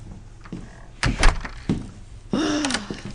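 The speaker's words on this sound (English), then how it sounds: "Open the door." A door is opened with a few close knocks and thunks, a louder clunk of the latch and a short creaking scrape at the end, with no talk over it.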